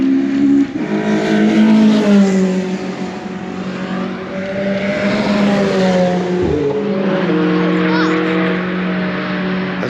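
Race cars lapping the Goodwood circuit at a rare-car event, engines droning loud and steady with rising and falling revs as they come round, while people talk over the noise.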